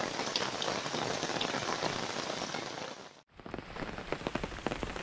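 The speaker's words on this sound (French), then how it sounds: "on entend toujours l'orage, il pleut toujours" Heavy thunderstorm rain pours down steadily on an island, a dense close hiss of drops on surfaces, briefly cutting out before resuming with scattered louder splatters.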